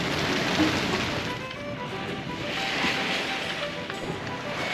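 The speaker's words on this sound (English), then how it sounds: "Yeah, it's got pretty breezy." While sailing in breezy Scottish summer weather off Britain during a gale, a steady rush of wind and waves washes past the boat in a continuous broad roar, moderately loud, with no clear talking.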